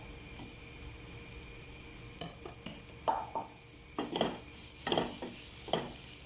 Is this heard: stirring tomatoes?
yes